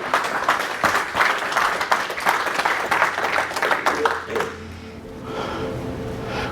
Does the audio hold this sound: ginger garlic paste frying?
no